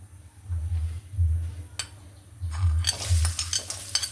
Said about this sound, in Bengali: এখন এখানে দিয়ে দিব আমি বেশ কিছু পেঁয়াজ কুচি